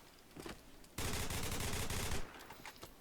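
A rapid automatic weapon fires in one continuous, loud burst in the Ballistic Overkill video game, the Berserker's new gun, as fast as an SMG. Quieter shots come before and after it.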